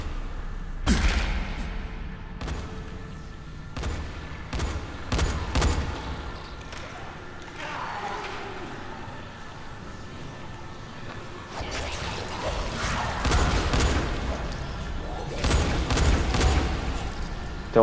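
Gunfire in the zombie game Dying Light: The Following, heard as scattered loud bursts and bangs over a dense, rumbling game soundscape, with some overlapping voices.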